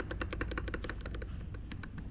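A spinning skateboard bearing gives a steady run of fine rapid clicks and light rattling, close and fairly quiet, with no talk.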